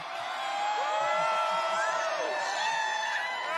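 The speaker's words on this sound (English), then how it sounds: "It's very hard to talk above the crowd" Loud crowd at an election night event cheering and whooping continuously, a dense roar with rising shouts and excited voices throughout.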